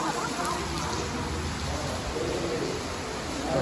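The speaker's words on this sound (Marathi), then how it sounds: "खतरनाक पाऊस चालू आहे" Heavy rain pours down at Vengurla on the Konkan coast beside an old, rain-damaged temple, a loud dense roar of water that stays constant and close for the whole stretch, with no talking.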